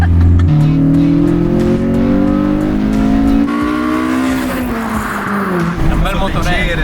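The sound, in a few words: Honda Civic engine revving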